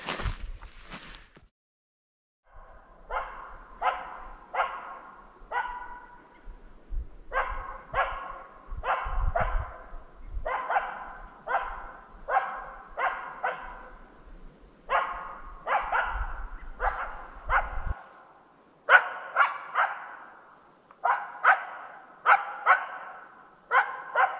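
A Finnish Spitz hunting dog barks in a forest in October, repeated sharp barks in quick bursts with short pauses, fairly close, with faint rustling and footsteps early on and no talking.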